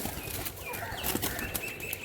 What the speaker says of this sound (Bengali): কিছু পায়রা রেডি করেছে, সেই পায়রাগুলো উড়িয়ে দেখাবেন।